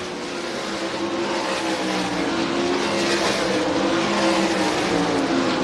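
USAC sprint cars race at Williams Grove Speedway, a dirt oval, with a dense, continuous engine roar that swells slightly as several cars pass close.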